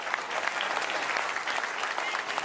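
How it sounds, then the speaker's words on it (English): A crowd at a professional bowling world championship makes a continuous wash of clapping and cheering, steady and moderately loud throughout with no clear pauses. "Crowd noise."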